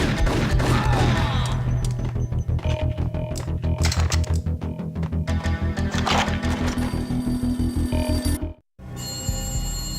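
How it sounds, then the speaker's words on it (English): An old, beaten-up telephone rings insistently in the entrance hall of a building in the Max Payne video game, its rapid bell rattle repeating over a dense, loud game soundscape with crashes before a brief drop to silence. "A beaten-up phone in the entrance hall was ringing."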